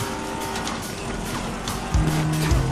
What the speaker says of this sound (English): This car is rather fast, so it is a quite good getaway car